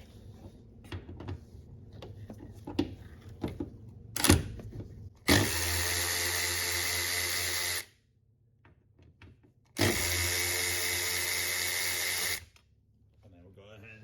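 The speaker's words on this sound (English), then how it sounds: "we'll go ahead and remove the bolts. But I got a tool here with the Torx T30 on it" A power tool spinning out Torx T30 bolts on a car gives two loud, steady whirring bursts of a few seconds each, with a short gap between them, after quiet clicks and handling noises.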